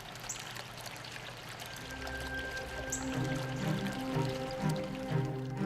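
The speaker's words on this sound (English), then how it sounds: "you still get that peaceful sound of falling water" Water falls steadily into a small backyard pond, a soft, continuous splashing trickle heard close by with faint background noise and no talking.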